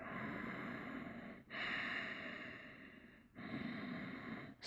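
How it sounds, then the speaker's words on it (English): Slow, deep breaths during a seated yoga pose, three long airy inhales and exhales with short pauses between them, soft and close in a quiet room. "And just breathe."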